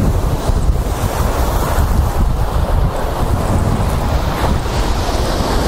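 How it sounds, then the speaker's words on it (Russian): Strong winter wind buffets the microphone with a constant roar, and breaking sea waves churn underneath on the beach at Katsiveli, loud and continuous. "Если бы не микрофон, вообще был бы один шум ветра."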